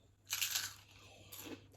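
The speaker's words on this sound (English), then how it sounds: "It's got a crunch." Crunchy bite into a Hungry Jack's chicken nugget, a close, crisp crunch followed by a softer second crackle, with no talking.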